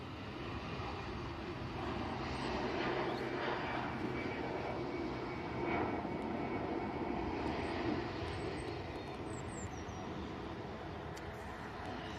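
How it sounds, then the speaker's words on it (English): An Aer Lingus jet airliner on its takeoff roll for Dublin at Manchester Airport, a steady broad engine roar heard from a distance that swells gently and holds throughout, with wind buffeting the microphone. "Aer Lingus on the roll now to Dublin."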